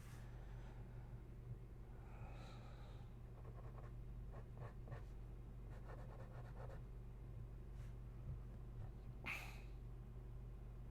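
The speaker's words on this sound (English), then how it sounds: "you can hear the metal grinding against the paper, right?" A metal pen nib scratches across paper while a comic cover is being inked, faint repeated strokes over a steady low hum of room noise.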